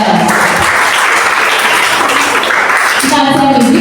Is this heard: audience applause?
yes